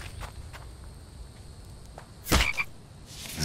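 Frogs in the video game The Infected croak several times in short rasping bursts over a faint insect-like background, with a louder croak near the end.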